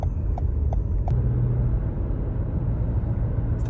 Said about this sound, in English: This is the 2024 RAV4 hybrid.